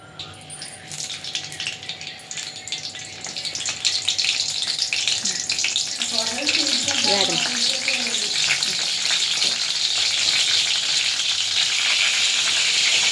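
Oil sizzles in a pan while fish curry is prepared, starting as a softer crackle and swelling to a loud, continuous, close hiss, with a voice speaking briefly midway.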